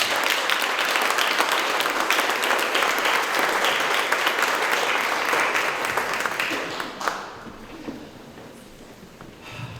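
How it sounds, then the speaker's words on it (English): Loud, dense applause from a crowd, steady for several seconds before thinning out and fading toward the end. "Give these folks a big round of applause."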